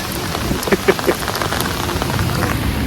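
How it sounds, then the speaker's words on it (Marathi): Steady rain pours down at a beach by the sea, a dense hiss of drops spattering on surfaces, with a few louder splashes standing out near the start. "पाऊस तर जायचं नाव नाही घेते बघा"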